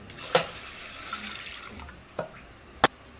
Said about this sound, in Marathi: आता आपल्याला पाणी ओतायचं आहे।